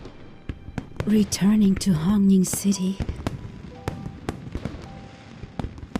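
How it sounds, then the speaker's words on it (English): Fireworks in a video game set in Hongning City crackle and pop as a string of sharp bursts, heard faintly behind a voice speaking in the foreground. "Do you want to set off fireworks in Hongning City?"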